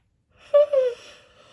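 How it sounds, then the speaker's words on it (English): A person yawning after a yoga shoulder exercise, one drawn-out voiced yawn with a rising then falling breathy tone, close and alone in a quiet room. "That first exercise always makes me yawn really hard"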